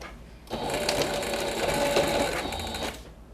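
A sewing machine stitches the legs onto a small cloud-shaped cushion in one short, steady burst of rapid mechanical whirring, starting and stopping abruptly.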